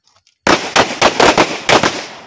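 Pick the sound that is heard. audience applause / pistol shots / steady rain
pistol shots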